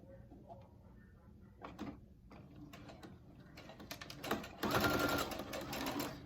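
A sewing machine stitches around the edge of a fabric face mask, starting with a few short bursts of needle clatter before settling into a louder, continuous run close by.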